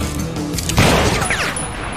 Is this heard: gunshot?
yes